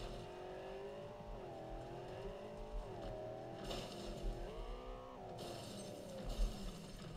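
A car in Cyberpunk 2077 driving around, its engine revving up and down in waves with occasional tire noise, heard faintly and steadily without talk.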